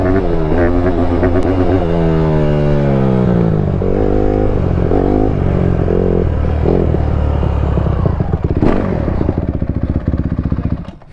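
A new Honda 150 dirt bike engine revs and pulls under a rider, its pitch sweeping up and down through gear changes, loud and close and running steadily the whole time.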